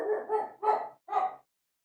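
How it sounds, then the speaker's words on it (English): A dog barks three times in quick succession, close and fairly loud, the barks rough and slightly whiny, then silence follows. "He doesn't even know what he's barking at."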